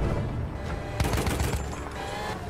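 Dense gunfire and explosions in the video game Battlefield 1, with rapid overlapping shots and a heavier blast near the middle, loud and continuous throughout with no talk.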